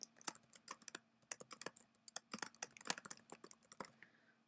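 Rapid, irregular keystrokes clatter on a computer keyboard, close and fairly quiet, with short bursts and brief pauses between clicks, and no voices.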